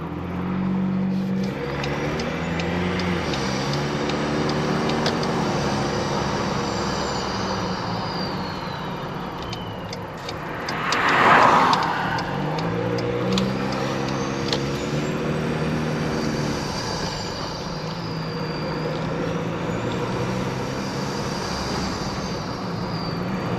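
A Ford Ranger PX bi-turbo pickup engine, fitted with a snorkel, idles and runs steadily with a low, throaty rumble, rising briefly in the middle before settling back to an even drone.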